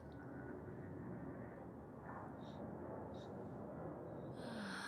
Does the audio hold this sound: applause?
no